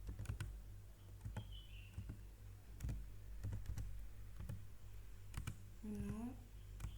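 Keys tapped on a computer keyboard in scattered clusters of sharp clicks while someone speaks French in the background.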